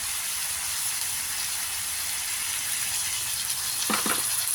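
Water poured into sautéed adobo in a hot pan gives a steady, close hiss of sizzling steam throughout, with a couple of brief sharper bursts near the end.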